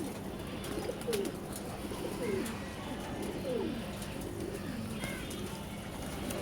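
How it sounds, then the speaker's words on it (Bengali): Domestic house pigeons give several low, rolling coos spread across the stretch, moderately near but quiet, with faint ambient background and no talking. "এটা আমার ঘরের কবুতর।"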